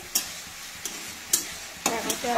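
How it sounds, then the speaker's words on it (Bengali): Faint frying of chicken skin in a pan, broken by a handful of sharp metallic clanks as a spatula strikes and scrapes the pan. "আমাদের চিকেন ভাজা হয়ে গেল"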